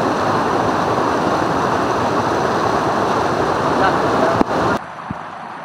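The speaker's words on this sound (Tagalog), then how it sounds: "Lumakas makakit yung agos ng tubig." Fast floodwater current rushing in a broad, steady roar close by, loud and continuous for about four seconds before a brief knock and a sudden drop in level near the end.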